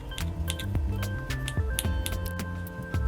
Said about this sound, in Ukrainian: Сосиски ріжемо кружальцями десь по пів сантиметра.